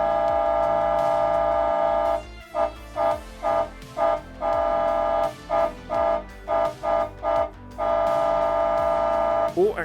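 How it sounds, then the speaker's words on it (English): A Robosen Flagship self-transforming Optimus Prime robot toy sounds its horn in a loud, steady electronic blare, broken into a rapid string of short rhythmic toots before returning to a long sustained note. "You can even honk the horn."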